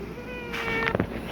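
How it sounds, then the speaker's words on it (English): A pet cat meows once, close to the microphone, with a rising tonal cry in the middle of a short quiet stretch. "sorry if you heard a meow, that was my cat."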